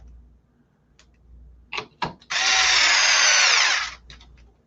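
A battery-powered drill fires up after a few clicks and handling knocks, whirring loud and steady for about two seconds before spinning down, close to the microphone with no speech.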